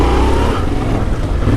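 A Yamaha Tenere 700 motorcycle runs while being ridden, its engine a steady, fairly quiet low drone blended with constant wind rush and no distinct revving.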